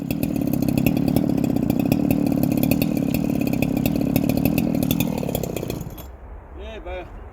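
Stihl MS660 chainsaw roaring steadily at full throttle, loud and close, its harsh buzzing engine note holding for about six seconds before cutting off abruptly, leaving brief quiet with a faint warbling tone afterward.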